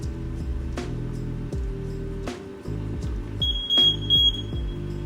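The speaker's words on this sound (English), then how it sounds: "first is the heat alarm" Kitchen heat alarm being tested gives a shrill, steady beep of about a second late in the clip, heard over ongoing background music.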